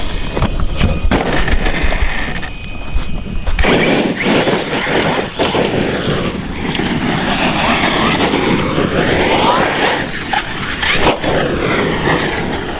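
ARRMA Nero 6S RC car with 17T pinion driving fast, a loud whining motor with rising and falling sweeps as it passes, plus rattling clatter from the tires on the ground.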